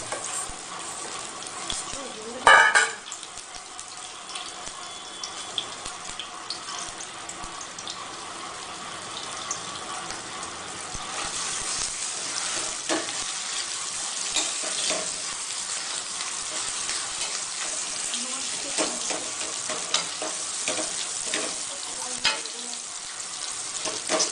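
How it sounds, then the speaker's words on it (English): Potatoes frying in ghee in a pan for aloo halwa, stirred throughout: a continuous close sizzle with scraping strokes and a sharp clank near the start, no talk. "Add the potatoes. And stir it well."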